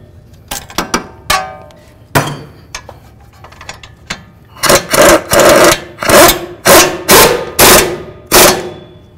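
Power impact tool running down strut bolts on a 2005-14 Ford Mustang, a few short ratchety bursts followed by a series of loud, evenly spaced rattling hammer bursts close by.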